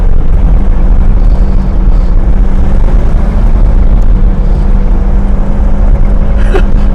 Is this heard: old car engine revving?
yes